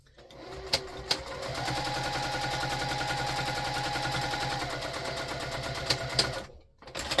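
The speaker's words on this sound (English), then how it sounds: "I am back stitching at the beginning and end of those" A sewing machine back stitching fabric for a fabric basket runs in one steady, close mechanical whir for several seconds, with clicks at the start and end as it reverses and stops.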